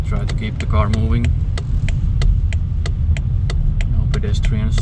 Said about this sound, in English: Just try to keep the car moving.